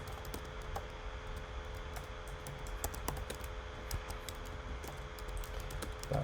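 Steady typing on a computer keyboard during DNS server configuration, quiet rapid clicking keystrokes in an uneven rhythm, close and alone without voices.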